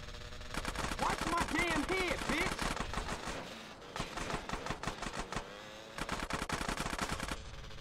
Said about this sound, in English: I'm out of bullets, Catalina.